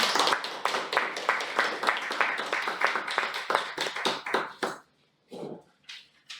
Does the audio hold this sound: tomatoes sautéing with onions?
no